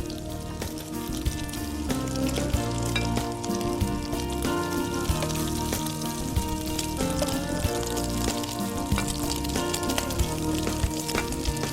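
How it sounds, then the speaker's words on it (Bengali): Omelette pakora deep-fries in oil, a dense, steady crackling sizzle that runs unbroken throughout, with a tonal hum underneath and no talking. "মোটামুটি এরকম লাল লাল করে ভেজে তুলবো।"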